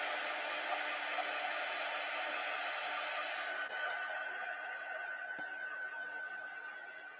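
A hair dryer blows steadily at close range over acrylic paint, a constant airy roar that holds through and fades slightly at the end, with no talking.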